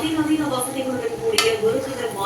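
A spoon stirs pea pulao in a pot on the stove, with scraping clinks of metal against the pan and one sharp clink near the middle.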